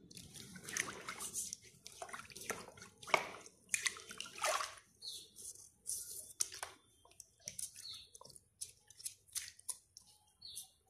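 Feet dipped into a basin of water during an at-home pedicure, close splashes and sloshing bursts followed by dripping and trickling between quieter pauses.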